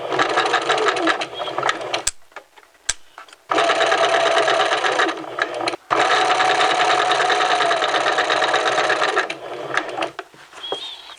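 Sewing machine running a sleeve seam with gathers, in three sustained bursts of rapid, even stitching separated by brief pauses, loud and close.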